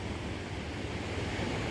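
Water rushing through Diversion Dam near Fallon, where the flow comes down and passes under a road into irrigation ditch lines; a steady, close, broadband roar with no voices.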